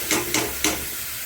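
Ginger, garlic, onion and tomato paste with coriander, cumin, turmeric, salt and chilli powder frying in a pan for a mushroom dish, heard as three short bright sizzling bursts from stirring over a low steady hiss.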